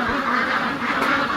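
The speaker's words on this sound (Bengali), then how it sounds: "এটা হচ্ছে হাঁসের খামার, যা হচ্ছে পেকিং।" Pekin ducks on a duck farm quack in a dense, continuous chorus of nasal calls, close and moderately loud with no talking.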